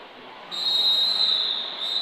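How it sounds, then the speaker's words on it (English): A referee's whistle at a Roller Derby World Cup match between Argentina and Australia, signalling the start of the second half: one long, shrill, steady blast over a noisy arena crowd, with a brief second toot at the end. "A bit of a tease from the officials, a whistle to kind of say that we're about to start the second half."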